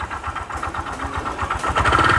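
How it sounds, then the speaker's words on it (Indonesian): Honda Vario 125 scooter engine running with an abnormal noise, with a suspected connecting-rod fault: a close, rhythmic idling chug with pulsing knocks and a faint whine rising toward the end. "Untuk Vario 125 ini pun ini sama, dia bunyi mesin juga"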